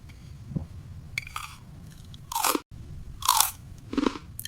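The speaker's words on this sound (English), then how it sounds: "I'm eating dinner." Someone chewing food while eating dinner, with loud close crunchy bites and mastication coming in several separate bursts over a quiet background.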